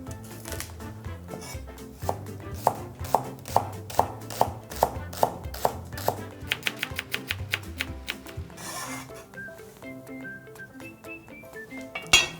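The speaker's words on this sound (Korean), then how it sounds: "청양고추도 송송송송송송." A knife slices Cheongyang chili peppers on a cutting board while dasima kalguksu is being made. Evenly spaced, crisp chops speed up into a rapid run, close and clear, with no talk.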